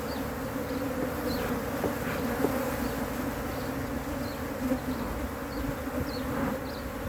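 Honey bees hum in a steady, dense drone around an open hive during a brood check, with a few individual bees buzzing past close by and no talk over them.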